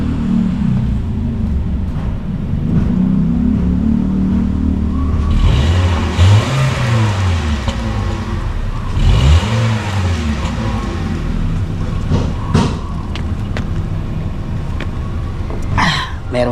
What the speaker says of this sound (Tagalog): Bombahin natin. Bobombahin ko.